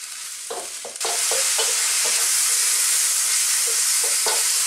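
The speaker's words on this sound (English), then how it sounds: "we're going to just sort of stir fry these around in here for about 3 to 4 minutes" Mushrooms stir-fry in a pan over medium heat, a bright steady sizzle that jumps louder after a second, with intermittent close scraping strokes.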